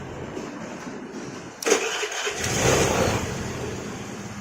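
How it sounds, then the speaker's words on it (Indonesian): Carbureted Honda Vario scooter engine cranked by its starter and catching, a sudden whirring burst that settles into a steady close-up idle, with no talk. "Kita nyalain lagi motornya."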